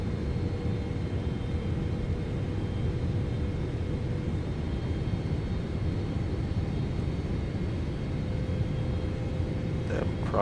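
Airliner cockpit on final approach after a long-haul Atlantic crossing to Charlotte: a steady low engine and airflow rumble with a faint constant tone, heard from inside, with a brief click near the end.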